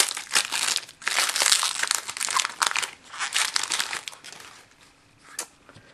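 Foil wrapper of a Magic: The Gathering Hour of Devastation booster pack torn open and handled up close, giving loud crinkling and crunching bursts that carry on for several seconds, then die down to a few light rustles.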